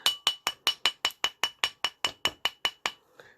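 A rawhide mallet strikes a metal ring in a steady fast rhythm, about fifteen sharp, ringing taps close up with brief decays, ending in a quieter knock.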